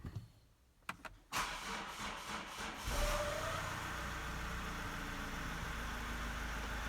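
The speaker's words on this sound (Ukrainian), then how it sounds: "Пробуємо заводити автомобіль." A 2.2-litre diesel Mazda CX-5 cranks briefly with a few clicks, then catches and settles into a loud, steady idle, heard up close with no talking, just after its fuel filter was changed.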